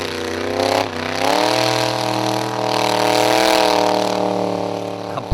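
A formula offroad race car, the Farmer's Daughter, driving at a race in Hafnarfjordur, Iceland: a steady loud engine drone with a pitch shift as it changes gear and revs, holding throughout.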